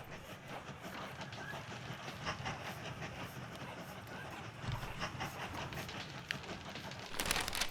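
A video game train rumbles and clatters along steadily at low volume, with faint rhythmic clicks and a brief hiss near the end.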